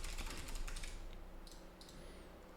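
Keys clatter on a computer keyboard during web form building, a quick burst of taps at the start, then a few sparse clicks, close and moderately quiet.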